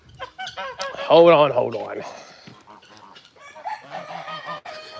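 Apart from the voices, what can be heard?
birds at an animal sanctuary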